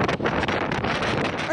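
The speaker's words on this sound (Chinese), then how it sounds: "海边的风浪明显偏大。" Strong typhoon winds buffet the seaside on Lanyu island, roaring and gusting loudly across the microphone as rough surf churns, with a voice talking over it.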